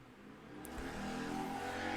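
A motorcycle engine revs outside, rising steadily in pitch and loudness over two seconds, heard at a distance and fairly faint.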